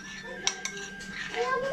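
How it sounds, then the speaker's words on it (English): A utensil stirs food in a cooking pot, with a few sharp metallic clinks and scrapes against the pot, close by, amid faint kitchen background noise. "give it a good stir"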